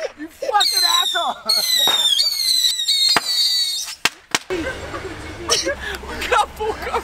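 Fireworks going off at night in Las Vegas, with sharp bangs and crackling bursts between long stretches of excited shouting and a dog's high whining, loud and close throughout.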